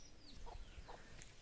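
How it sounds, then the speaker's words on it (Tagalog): A chicken clucks a few times nearby in a pigeon-keeping yard: short, quiet bursts with no talking. "Kailangan kong bugawin yung manok, mga kakwento. Masakit sa tenga."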